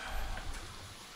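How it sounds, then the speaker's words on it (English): Pouring rain in a swamp setting gives a steady, dense hiss of drops on surfaces, faint and continuous throughout the short moment. "it's still been pouring and pouring."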